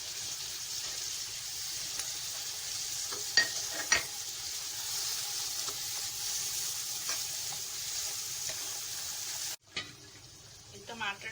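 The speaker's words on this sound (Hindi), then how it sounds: "अब हम कटे हुए टमाटर डालेंगे।" Chopped tomatoes fry in a pan for a lauki dish with a soft, continuous sizzle and a few clinks of a stirring spoon, fairly faint, before the sizzle drops away near the end.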